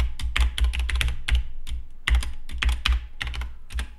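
Close, brisk typing on an Atari ST computer keyboard while entering GFA Basic code, bursts of sharp key clicks with short pauses between, loud and alone with no talk.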